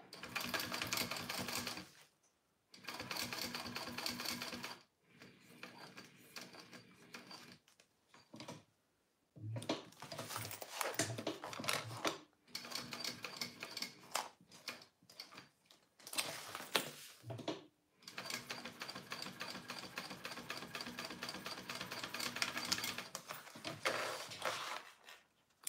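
Sewing machine stitching a line on a leather Konin bowler bag, running in repeated bursts of rapid needle clatter separated by short stops, close and steady.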